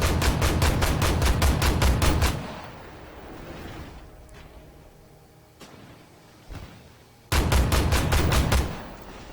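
AMX 10P autocannon in Armored Warfare firing a rapid burst of evenly spaced loud rounds, then a quieter pause with distant clanks, followed by a second rapid burst near the end.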